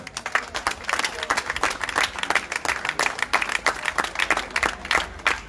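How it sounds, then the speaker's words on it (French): Audience applause at a public gathering in Martinique, a dense burst of clapping that runs steadily and fairly close throughout, with no talk over it. "Nous pouvons applaudir aussi."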